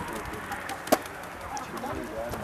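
Live chickens cluck and chatter at a poultry market in Yüksekova, a busy mix of bird calls under faint crowd murmur, with one sharp louder squawk standing out near the middle.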